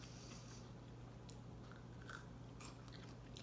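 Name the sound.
biting crunchy low-carb sweet pickles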